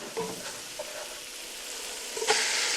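Lamb sizzling in a pot with curry powder as it is stirred, a steady, bright frying hiss with a few scraping stirs and a louder burst of sizzle near the end, no voices over it.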